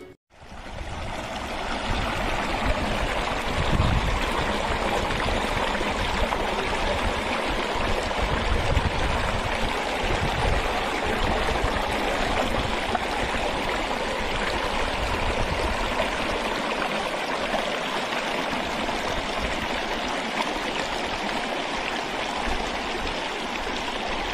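A river flowing past a riverbank settlement, a steady, loud rushing and burbling of water that continues unbroken throughout.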